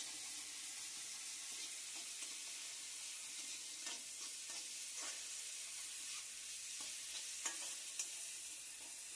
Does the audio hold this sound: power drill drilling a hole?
no